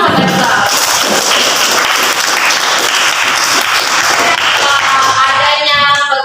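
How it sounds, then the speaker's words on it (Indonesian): A classroom full of people claps together in loud, sustained applause, dense overlapping hand claps holding steady for several seconds before thinning slightly at the end. "Tepuk tangan pada kita."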